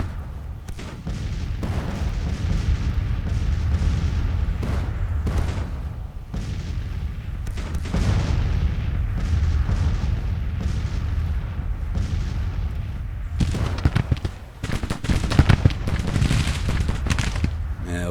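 Dense, continuous musket volleys and booming artillery fire rumble through a Civil War battle in the video game Grand Tactician: The Civil War, loud and layered with overlapping gunfire and deep cannon blasts throughout.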